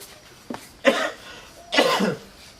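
Two harsh, close coughs from a man in a Bangla comedy drama, a short one followed by a longer, heavier fit about a second later, with no talking over them.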